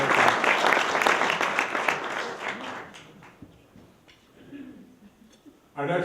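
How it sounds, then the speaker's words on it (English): An award ceremony audience applauds for several seconds, loud and dense at first, then thinning into scattered claps and fading, before a brief renewed burst at the end. "Let's give a round of applause to the Hartford Courant."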